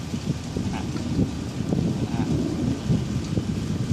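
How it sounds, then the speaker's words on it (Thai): Strong wind blowing outdoors, a steady low roaring rush buffeting the microphone throughout with gusty surges and no speech. "ลมพัดหน่อยนะฮะที่นี่ค่อนข้างลมแรงนะฮะ"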